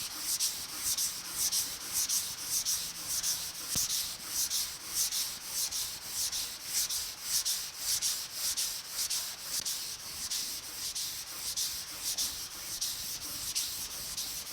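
Hand sanding on the hood of a 1950 Chevy truck, steady rhythmic back-and-forth rubbing strokes that are close and continuous, with no talking.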